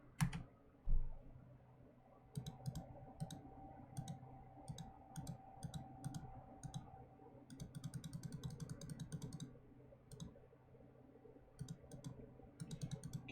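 Quiet, irregular keyboard typing in bursts of soft clicks over a low background hum.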